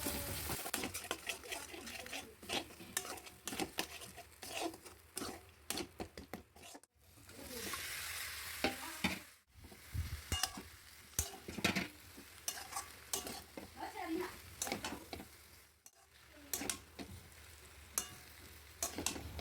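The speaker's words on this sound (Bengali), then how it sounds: "সেই পেস্টটা নুন আর হলুদ দিয়ে ভালো মতো তেলে কষাতে হবে" Spice paste with salt and turmeric sizzles and spits in hot oil while a spoon scrapes and stirs it steadily, close up, with brief pauses in the stirring.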